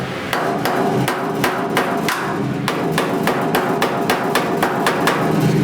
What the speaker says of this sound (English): So I'm going to take the hammer.